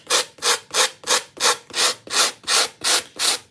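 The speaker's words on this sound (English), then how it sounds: "So we're going to try our sanding block. And you just kind of go over the edge." A sanding block rubs back and forth over the edge of paper during a chalk craft project, making about nine even, close scraping strokes in a steady rhythm with no talk.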